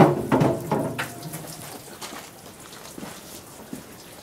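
Water runs into an NT-600 poultry plucker machine, a steady splashing, dripping patter after a few louder clunks at the start, fairly close and moderate in level, with no talking over it.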